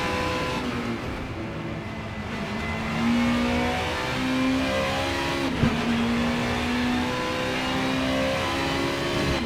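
Race car engine in Assetto Corsa Super Touring racing, droning steadily at high revs with shifting pitch and a brief click midway, loud and continuous with no talk.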